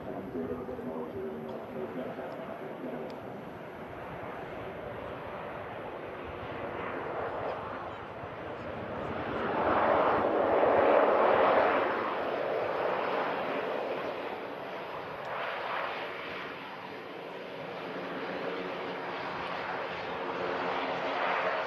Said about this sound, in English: Aer Lingus ATR 72 coming in from Dublin